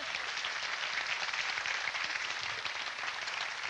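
A studio audience gives a round of applause for a contestant named Courtney, producing continuous, thick clapping that holds at an even level for the whole stretch.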